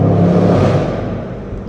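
Loud, close exhaust rumble from a rebuilt Jeep Grand Cherokee with the 5.7 V8, a brief deep rev that swells and then fades within under two seconds.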